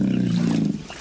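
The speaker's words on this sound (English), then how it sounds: "It was more of a roar." A single loud, low roar from a large wild cat such as a lion or tiger sounds close and full for about a second and then fades out.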